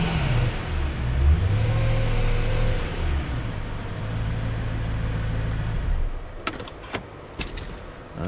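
BMW E92 M3 Monte Carlo, a very low-mileage car, idling cold outdoors with a couple of light blips that rise and settle over the first few seconds, then a steady idle broken by sharp clicks or knocks near the end.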